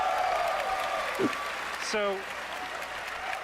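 Audience applause fills the hall at a Bethesda E3 conference, a steady wash of clapping running throughout as a voice briefly speaks over it.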